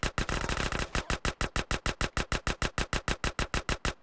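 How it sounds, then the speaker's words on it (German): Rapid automatic gunfire in the video game GTA San Andreas comes as a fast, evenly spaced burst of loud sharp shots, about five per second, continuing throughout with no talking. "Warum verschwende ich so viele Schuss auf dich?"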